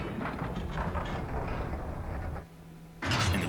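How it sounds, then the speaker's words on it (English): A door opens in The Legend of Zelda: Skyward Sword with a long grinding, rumbling slide. The scrape drops into a brief low hum and is followed by a loud burst as it finishes. "And the door opens."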